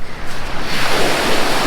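Strong ocean surf and gusting wind on Menzi Beach in Dahican, Mati City, roar loudly and continuously, the wind buffeting the microphone as a wave wash swells in the second half.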